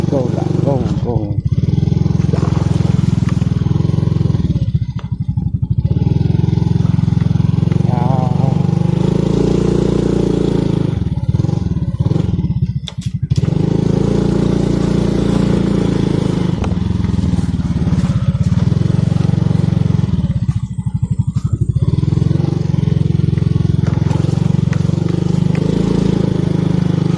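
Motorcycle engine drones steadily at close range while riding a rough adventure trail, with brief dips and clattering bumps, as a rider's voice speaks over it.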